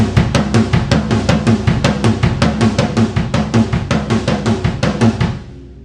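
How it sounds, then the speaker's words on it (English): A drum kit plays a rapid linear 5-3 pattern between the floor tom and the rack toms, a dense run of loud, punchy hits ringing out briefly at the end. "just playing the 5-3 between the floor tom and either your first or second tom"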